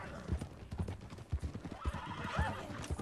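Horse in Red Dead Redemption 2, rhythmic hoofbeats clip-clopping at a gallop with a whinnying neigh midway, fairly quiet with faint voices underneath.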